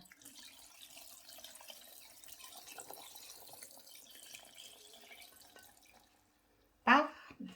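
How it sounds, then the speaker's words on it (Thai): Water poured into a container while pickling wild garlic, a trickling, splashing pour running steadily at low level for several seconds, then a brief louder gush near the end. "เทน้ำขาลงไปจ้ะ"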